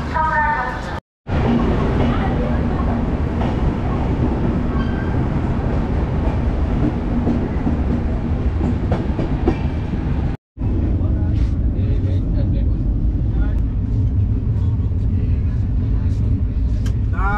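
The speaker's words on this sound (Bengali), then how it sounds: "ছেড়ে দিয়েছে ট্রেন।" The Kavi Guru Express passenger train, running from Kamakhya toward Mathura, rolls loudly along the track, with a constant heavy rumble and rattle of carriages heard from on board, briefly cut twice, with faint voices in the mix.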